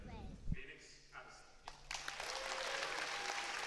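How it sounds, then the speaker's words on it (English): Audience applause at a Rubik's cube championship, entering after a quiet start with scattered claps and talk, then building into a steady round of crowd clapping that carries through the latter half. "getting a rapturous round of applause"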